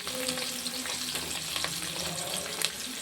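Onions for a Tamil fish curry fry steadily in a pan with a continuous bright sizzle and hiss, broken by a few stirring scrapes and no speaking.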